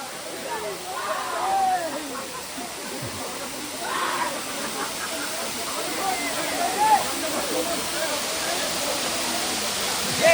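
Pepper Falls waterfall in Kodaikanal roars as a steady, broad rushing wash close by, with voices faintly audible underneath.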